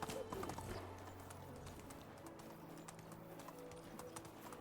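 Horse hooves clip-clop in the medieval survival game Medieval Dynasty, a steady quick rhythm of clear hoofbeats with faint birdsong and a low ambient music bed behind.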